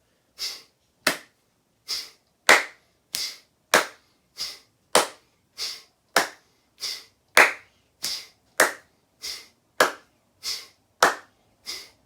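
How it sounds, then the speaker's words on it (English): Single sharp hand claps during a breathwork exercise, close and crisp, about sixteen evenly spaced claps repeating in a steady rhythm with near silence between them. "And then we're going to clap in between."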